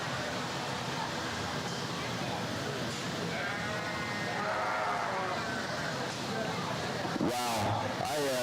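Sheep bleat through the crowd noise of a 4-H sheep show in a barn, with steady murmuring voices and a few clearer calls near the end.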